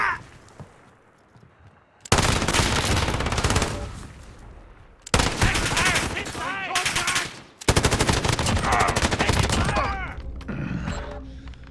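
Automatic rifle fire in Call of Duty Modern Warfare, shot from the hip in a shanty town area: long, loud, rapid bursts fill most of the stretch, broken by short gaps, with faint game sounds between and no talk.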